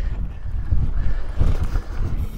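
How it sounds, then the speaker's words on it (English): Wind gusts buffet the microphone on a mountain bike trail in Sedona, giving a steady low rumble that swells and drops in uneven bursts without any talk. "Kind of windy."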